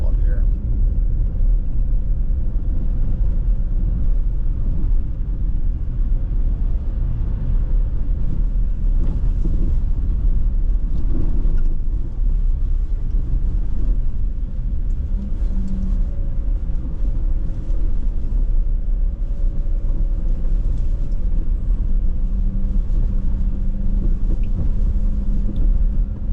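A four-wheel drive vehicle drives a rough road up to the Northwest Angle, a continuous loud low engine and road rumble with wind noise throughout, and a voice talking over it.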